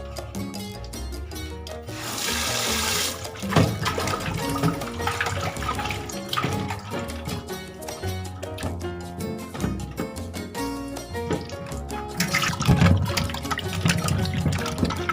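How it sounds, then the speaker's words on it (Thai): Three eels are washed in salted water with steady splashing and sloshing, close and continuous throughout, with brief surges of louder rushing water. "เดี๋ยวล้างทำความสะอาดกันนะครับ"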